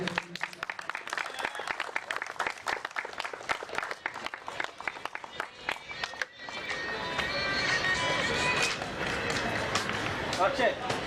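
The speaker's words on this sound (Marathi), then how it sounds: "एकदा जोरदार टाळ्या अक्षयसाठी." A crowd applauds at a cricket league prize distribution ceremony, dense hand clapping that swells into a loud sustained roar, with an announcer's voice over the first half.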